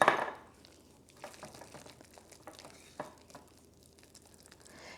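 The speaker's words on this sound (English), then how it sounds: "Then I go ahead and stir that all in." Chia seeds being stirred into a high-protein breakfast mix, a loud knock at the start followed by soft scraping and tapping strokes of a spoon in a container, close by and without talk.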